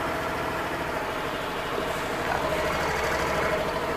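A Suzuki Access 125 BS6 scooter engine runs at a steady idle after an electric self-start, a continuous low putter with a faint mechanical rattle heard close up and without talk.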